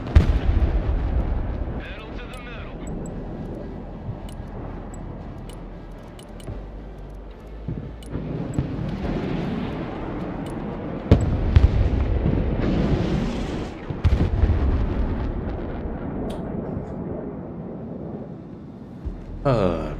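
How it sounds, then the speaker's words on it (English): Heavy gunfire from an M4, a 240 machine gun, a shotgun and an 84 launcher in a video game: dense overlapping shots and booming blasts for about twenty seconds, loud and continuous, with people talking over it. "He's firing the M4, the 240, the shotgun, and the 84 simultaneously"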